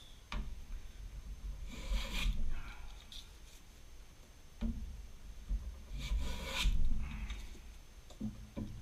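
A wooden foundry pattern for an angle plate casting being filed, heard as a few separate rasping swipes in bursts with pauses between them, close and clear, with no talking.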